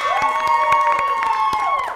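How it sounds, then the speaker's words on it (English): Audience at an improv comedy show cheering and shouting loudly to vote, a sustained sustained high-pitched yell over scattered claps, close and energetic. "Clap if you want Casey to stay."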